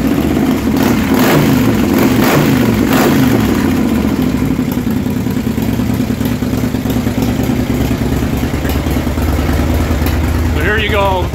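A 2006 Harley Superglide Custom with a 124 cubic inch engine and hole shot heads, not yet tuned, revs hard a few times up close, then settles into a loud, steady, deep rumbling idle.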